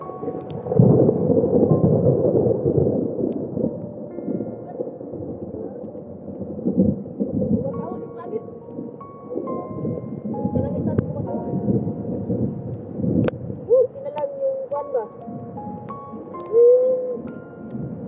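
Steady rain falls outdoors in a dense, rushing wash, with low rumbles and scattered brighter sounds over it; voices come through now and then.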